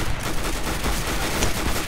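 Gunfire from a Counter-Strike: Global Offensive match, with sniper rifle fire amid a dense, loud, continuous burst of shots and no talking.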